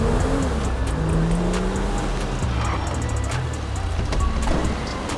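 In the GTA 5 video game, a garbage truck engine rumbles and revs steadily while driving, with tire noise and other traffic sounds throughout, no speech.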